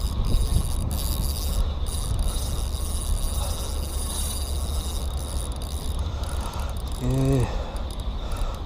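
A new fishing reel's drag clicks in a rapid, steady ratcheting buzz while a fish pulls line, continuous and fairly close under outdoor background noise, with a short tonal squeal late on.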